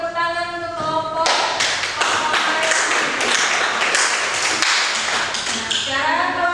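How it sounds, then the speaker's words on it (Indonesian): Classroom group claps for a presenting group after their presentation, a burst of hand clapping starting after a second and running several seconds, with voices and music tones around it. "beri tepuk tangan untuk kelompok"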